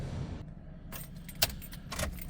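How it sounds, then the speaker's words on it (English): Keys on a 1997 Ford F-250 Heavy Duty XLT Crew Cab jangle in a few short metallic bursts, near and clear over a low steady background hum. "You go ahead and grab the keys."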